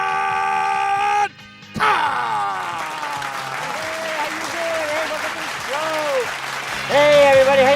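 A studio audience claps and cheers for a talk show host coming on stage. The applause is steady and strong after a short break in the sound, and someone talks over it.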